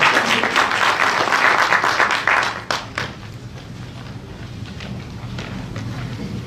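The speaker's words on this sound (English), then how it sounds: "Let's give a big round of applause for Andre." Applause from a conference audience at a plenary session on shared mobility technology, loud for a few seconds, then tapering off sharply into a lower, scattered patter.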